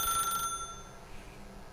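A telephone rings in the video game The Stanley Parable, a brief electronic trill in the first half-second that then cuts off, leaving a quiet room tone behind.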